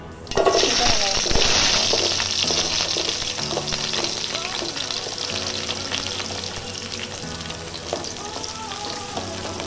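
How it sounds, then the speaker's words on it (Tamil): Mustard seeds hit hot sesame oil for a village-style garlic kuzhambu, starting an abrupt, loud sizzle that holds steady throughout. A voice speaks over the crackling fry. "இப்போ எண்ணெய் சூடானவங்க கடுகு போட்டுக்கோங்க."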